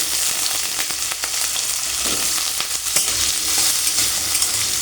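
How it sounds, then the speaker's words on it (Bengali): Potato pieces fry in lightly heated oil in a kadai, giving a loud, steady, close sizzle throughout with faint crackles and no talking. "তেলটা হালকা গরম হয়ে গেছে, এবারে আমি আলু দিয়ে দিচ্ছি"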